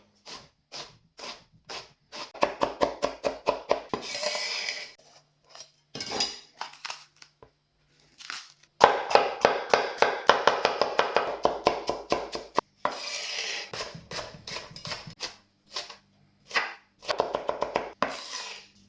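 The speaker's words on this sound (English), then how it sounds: "we need to finely dice one onion, one red pepper" Knife finely dicing onion and red and green peppers on a board, rapid bursts of close, crisp chopping taps separated by short pauses.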